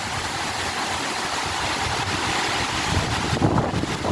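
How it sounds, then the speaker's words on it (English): A big gust of wind during Hurricane Nicole roars as steady broadband rushing noise, swelling slightly toward the end with no talking. "here comes a big wind"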